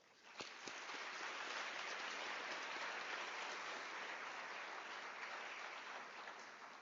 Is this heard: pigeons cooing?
no